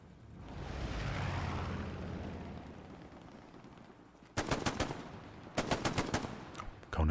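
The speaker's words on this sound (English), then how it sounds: "Conan dodges the STG rounds." StG assault rifle gunfire in a World War II shooter game set at Sainte-Mère-Église: a quiet ambient stretch, then sharp loud bursts of rapid automatic shots in two volleys, ending with a final close shot.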